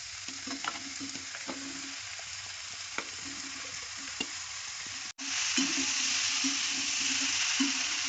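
Onion and tomato sautéing in a pan for a chana dal chutney, giving a steady close sizzle with soft stirring scrapes, a brief gap near the middle, then a louder hiss; no one speaks.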